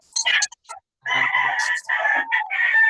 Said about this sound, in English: I would like to apologize about the noise of the chicken.